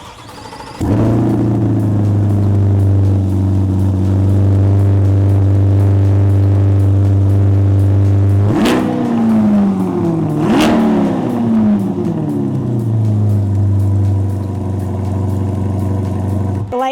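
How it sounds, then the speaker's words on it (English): A 2026 Corvette ZR1 V8 fires up and settles into a loud, steady idle, then gets two sharp revs that rise and fall before dropping back to the idle, close and continuous throughout. "Kenny's gonna start it up and let's see how she sounds."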